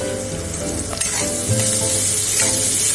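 Carrots and other vegetables for upma fry in a hot pan with a steady loud sizzle, a few stirring scrapes breaking through.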